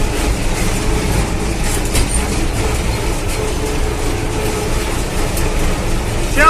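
A 45-year-old combine harvester drives along a highway, its heavy engine and road noise forming a loud, steady, continuous rumble with no talking.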